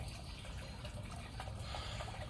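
A tap left running, producing a steady, faint rush of flowing water that continues evenly throughout with no voices.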